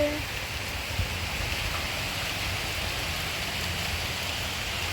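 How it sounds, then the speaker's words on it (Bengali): Steady rain falls in a dense, even hiss during a storm with lightning and a power cut, constant throughout with no pauses. "দেখো বৃষ্টি পড়ছে"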